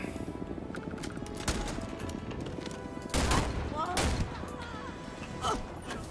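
Ballistic gunfire in the sci-fi video game Starfield, several sharp shots in quick bursts against a busy combat backdrop, loud and close.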